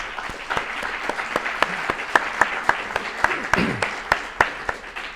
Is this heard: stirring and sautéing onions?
no